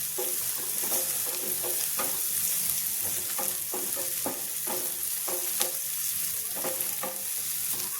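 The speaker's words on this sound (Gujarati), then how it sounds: "કેપ્સિકમને પણ સાતળી લેવાનું છે" Finely chopped capsicum sautés in oil with added onions for masala pav. A steady sizzle runs throughout, broken by repeated soft scrapes and taps of a stirring spoon, close by and without speech.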